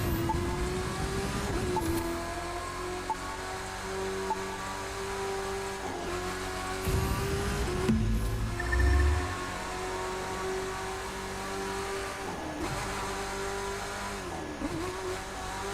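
Car engine in The Crew 2 racing game, a steady droning rev with shifting pitch and brief tire-squeal moments as the car drifts, loud and continuous with no talk.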